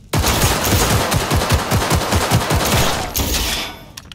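Rapid automatic gunfire in Cyberpunk 2077 rattles out in a dense, loud burst of repeated shots for several seconds, then trails off, with no talking over it.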